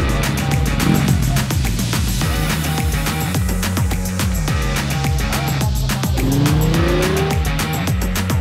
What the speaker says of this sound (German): die Motoren röhrten und die Autos beim Stockerrennen nur so über die Strecken purzelten